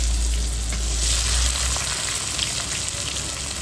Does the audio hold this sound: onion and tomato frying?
yes